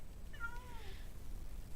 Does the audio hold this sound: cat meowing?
yes